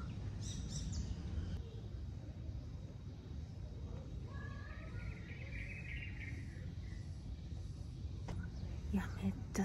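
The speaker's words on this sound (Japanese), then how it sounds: "プールの音と鳥の声しか聞こえない。" Faint bird chirps and calls drift through steady background noise of a pool at a resort in Phuket, Thailand, distant and intermittent, with a brief brighter burst near the end.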